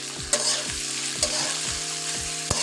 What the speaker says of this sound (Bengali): এখন ভালো করে ভেজে নেব। চুলার আঁচটা বাড়িয়ে দিয়েছি বন্ধুরা, জাস্ট এভাবে নেড়ে চেড়ে ভাজা ভাজা করে নেব।